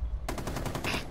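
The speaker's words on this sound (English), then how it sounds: "What is he shooting at?" Rapid automatic gunfire in Rainbow Six Siege, a dense burst of closely spaced shots that is loud and continuous for about a second after a short quiet start.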